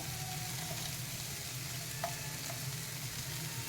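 Onions, ginger and green chilies fry in a pan with an even, continuous sizzle, fairly quiet, with one brief clink of a utensil near the middle.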